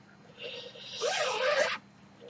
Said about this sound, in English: getting that zipper zipped up on the mannequin